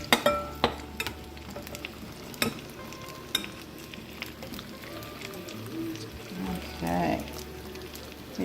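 Sriracha chicken pieces sizzle steadily in a hot pan, a continuous crackling fry with a few sharp clatters early on and a brief louder bubbling burst near the end, no talk over it.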